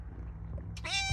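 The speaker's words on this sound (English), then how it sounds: "Little feral kitten somebody gave me." A young, formerly feral kitten gives a single clear meow near the end, close and fairly loud, after a stretch of quiet low room hum.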